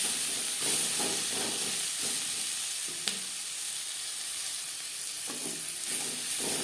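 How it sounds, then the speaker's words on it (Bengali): Onion, vegetables and turmeric sizzling in a pan for a vegetable dal while being mixed, a steady hissing fry with a few spatula knocks and scrapes, close, no voices. "পেঁয়াজ সবজির সাথে বেশ ভালো করে মিক্স করে দেব।"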